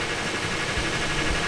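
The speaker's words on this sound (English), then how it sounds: "I can hear the engine is slowing down." Cold Toyota Tacoma engine idling steadily after sitting twelve hours, a constant low rumble with broadband hum, close and continuous, no voices.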